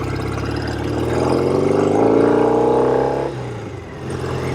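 A restored 1972 Norton 750 Commando Combat motorcycle engine revs up steadily, holds a loud, rising drone, then drops sharply as the rider shifts gears, settling to a lower idle.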